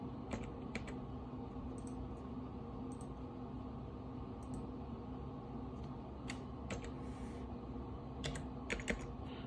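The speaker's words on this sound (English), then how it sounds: "I'm going to type in your email address" Someone types an email address on a computer keyboard in a quiet room, with scattered light key clicks in short bursts over a low steady background hum and no speech.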